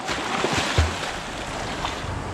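Creek water rushes quickly past a vehicle at a crossing in Victorian High Country, a steady broadband wash with faint low thumps, continuous and close throughout.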